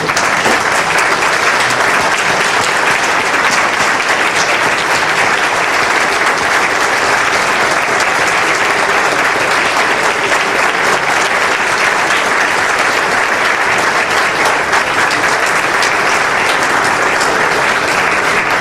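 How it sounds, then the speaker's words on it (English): A large crowd at a scholarship dinner for NYPD members gives a loud, standing ovation, thick unbroken clapping holding steady at full volume for the whole stretch. "I want everyone to please stand up and give them another round of applause"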